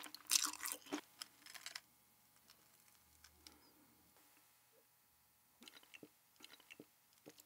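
Crunchy bites and chewing of spicy fried fire chicken, close and quiet, with a loud crisp burst at the start followed by softer intermittent munching and pauses.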